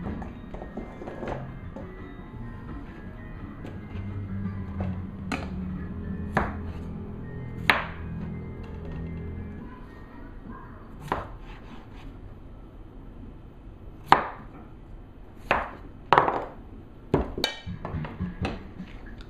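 A knife quarters ingredients for chowder on a cutting board, giving a run of sharp, distinct chops and taps spaced irregularly, with a few louder clustered strikes near the end and no voices.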